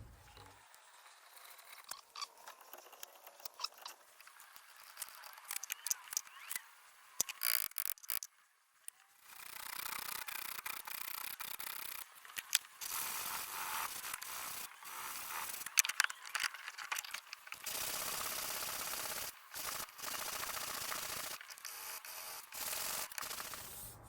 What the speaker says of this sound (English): So unfortunately I'm going to have to drill this one out very carefully